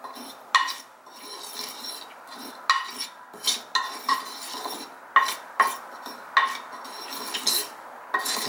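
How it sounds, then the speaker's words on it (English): A spoon scrapes and clinks against a bowl as red sandalwood powder is stirred for incense. The taps and rasps are steady and rhythmic, close and clear, with no voices. "So I'm going to put in a little bit of red sandalwood powder, and just stir that around with a spoon."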